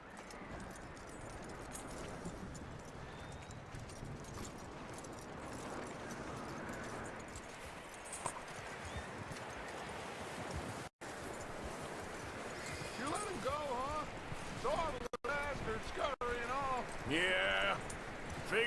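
A horse's hooves clip-clop on the ground in Red Dead Redemption II, soft and steady within a busy game soundscape of rumbling ambience. Characters' speech comes through at times, and chirping tones stand out near the end.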